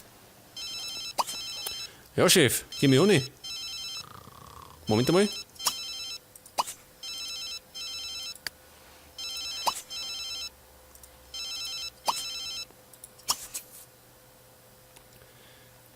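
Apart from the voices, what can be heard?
telephone ringing in the video game The Sims 3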